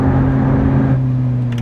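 A 2010 Ferrari 458 drives with a loud, steady engine drone close by, holding level for under two seconds before the tone eases slightly. No one speaks.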